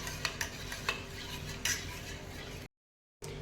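A spoon stirring turmeric milk in a cup or pan, light metallic clinks and scraping taps at an uneven pace, close and quiet over a faint background hum, broken by a brief silent gap.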